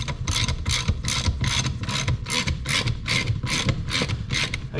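A ratchet wrench snugs down bolts on an Allis Chalmers G tool carrier, producing a close, rapid, rhythmic series of clicking ratchet strokes that continues steadily without speech.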